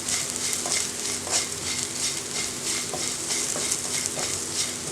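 A spatula stirs onions in a hot pan for a spinach stir fry, with a continuous oily sizzle and soft, repeated scraping strokes against the metal, close up and steady, with no talking.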